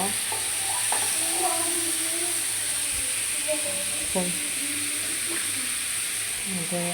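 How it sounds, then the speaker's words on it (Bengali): An egg dish frying in a pan after ginger paste goes in, a steady loud sizzle and hiss that holds throughout, with occasional stirring clinks and someone talking over it. "এখন আদা আদা দিয়ে রসটা দিয়ে দিচ্ছি এখন রান্না করব"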